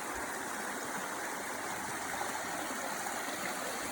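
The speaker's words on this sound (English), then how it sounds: "about to cross a creek" A creek on a hiking trail rushes steadily over rocks, a close, even broadband water roar with no pauses and no voices.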